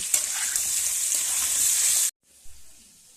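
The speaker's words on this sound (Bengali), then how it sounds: "আলুর পরিমাণ লবণ আর একটু হলুদ দিয়ে ভালো করে ভেজে নেব" Potatoes sizzle loudly in hot oil with salt and turmeric, a dense steady frying hiss for two seconds that cuts off abruptly, followed by a quiet faint sizzle.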